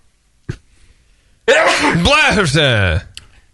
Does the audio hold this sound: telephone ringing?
no